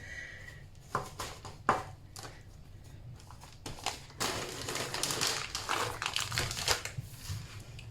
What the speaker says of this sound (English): let's just squish all these chocolate chips in. Let's just roll this up again